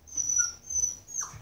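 A puppy whimpers in short, thin, high-pitched whines, three faint cries in quick succession close by, with no talking over them.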